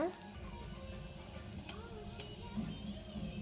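Onions frying in a pan with rock salt and turmeric for a Karnataka-style dal rasam, a steady soft sizzle running throughout with faint talk mixed in.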